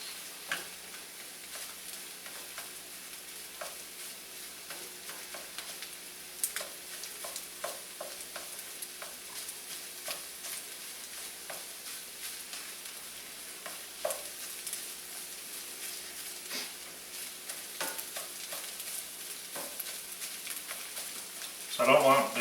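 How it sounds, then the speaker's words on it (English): An egg fries in a pan for fried rice with pork while a spatula cuts through it. Steady, quiet sizzling runs throughout, broken by light scraping and tapping strokes, with a louder clatter at the very end. "Sometimes you can just kind of take your spatula and kind of cut through it."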